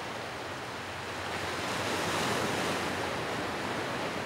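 Ocean waves wash and hiss around a boat at sea, a dense, continuous roar mixed with wind buffeting that swells slightly midway.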